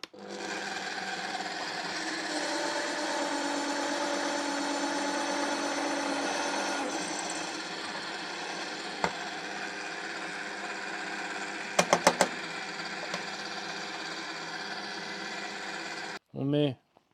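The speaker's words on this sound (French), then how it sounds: "On va d'abord commencer par percer juste le premier." A drill bores a hole in a handmade gift knife, a sustained whining hum that runs for most of the clip, shifts pitch partway through, and ends with a few sharp clicks and a brief voice.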